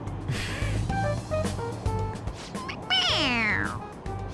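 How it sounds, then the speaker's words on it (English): A stuffed toy cat in the video game Persona 5 Royal meows near the end when its head is pressed, drawn out and falling in pitch, after a stretch of low background sounds and brief tonal blips. "It meows when you press on its head."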